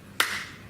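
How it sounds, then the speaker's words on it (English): A single sharp hand clap rings out once in a quiet room, with a short decaying tail and no voices. "So like a sound of clap"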